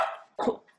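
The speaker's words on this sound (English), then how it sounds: "My dog just decided to make her presence known." A pet dog barks twice in quick succession indoors during a home video call, two short, moderately loud woofs heard alone without talk.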